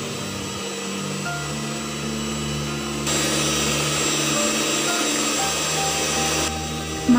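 An electric mixer whirs steadily nearby, its motor tone shifting in pitch and loudness as it beats butter and sugar into a thick mixture.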